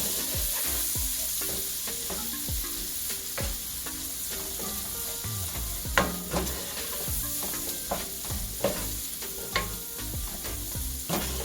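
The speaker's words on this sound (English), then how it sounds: "I'm going to add my onion. And I'm just going to continuously stir." Chopped onion frying in a hot pan, with continuous sizzling and crackling broken by repeated scraping strokes of a stirring utensil, close and steady with no talking.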